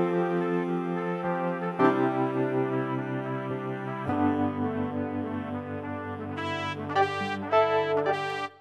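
Session Horns from Komplete 14 play a soul brass riff backed by keys. Held horn chords change about every two seconds over a keyboard layer, with short bright stabs toward the end, all at a steady, full level without any voices.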